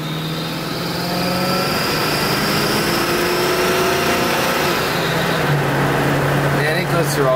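A 1978 Mercury Marquis Colony Park station wagon drives along, its engine droning steadily and climbing in pitch as it moves up through three gears, then easing back down, with faint road and wind noise.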